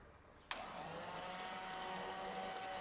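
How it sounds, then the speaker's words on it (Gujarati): A blender grinding rice and sago starts abruptly with a sharp click and then holds a steady, loud whirring motor drone. "તો બ્લેન્ડર ચાલુ કરશું અને આ રીતે આપણે ગોળ ગોળ ફેરવતા રહેશું"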